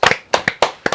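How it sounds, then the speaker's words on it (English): A few people clap briefly after a card trick: roughly four sharp, close hand claps in quick succession, sparse rather than a full crowd. "That deserves a round of applause."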